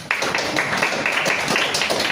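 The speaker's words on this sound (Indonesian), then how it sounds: "Oke, kita beri tepuk tangan ya." An audience applauds after a university lecture, with steady dense clapping that runs the full two seconds and stops abruptly at the end.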